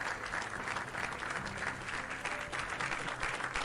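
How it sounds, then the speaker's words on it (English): Applause from an applause bot plays during an esports broadcast, a continuous wash of crowd clapping at low level that stays even throughout and has no speech over it. "you better not abuse your applause bot privileges"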